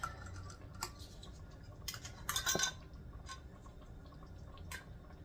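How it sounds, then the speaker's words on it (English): A metal lid set onto a glass canning jar of mulberry jam, giving a cluster of light metallic clinks and a brief scraping rattle. The sounds are moderately close, over a faint room background with scattered small ticks, and no one speaks. "And then you're going to put a lid on it."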